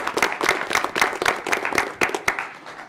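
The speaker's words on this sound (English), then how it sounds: "how about a round of applause to and Alexis for such an amazing job?" An audience at a board committee meeting applauds, a dense, steady patter of many hands clapping close by for the whole stretch, with no voices over it.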